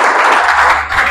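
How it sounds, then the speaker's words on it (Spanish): Dense, steady applause at a church men's meeting, a loud continuous wash of many hands clapping with no talk over it. "Pues dale un aplauso al Señor."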